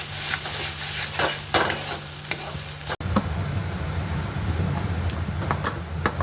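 A filling of onion, garlic, ginger and green chilli fries in a pan while being stirred, giving a steady close sizzle with repeated scraping strokes and a brief cut partway through, with no talk.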